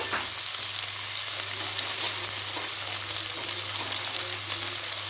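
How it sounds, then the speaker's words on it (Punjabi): Steady, close sizzling of cumin seeds tempering in hot oil, a dense crackle that holds even throughout with no voices. "ਅੱਧਾ ਚਮਚ ਜੀਰਾ ਤੇ ਨਾਲ ਆਪਾਂ ਪਾਵਾਂਗੇ ਤੜਕਾ"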